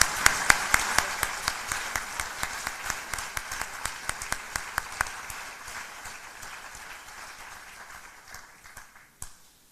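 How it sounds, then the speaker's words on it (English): An audience at the Hearts & Heroes 2023 celebration gives a round of applause, starting with loud, dense clapping that gradually thins and fades, with a few isolated claps at the end. "Everybody join me in a round of applause."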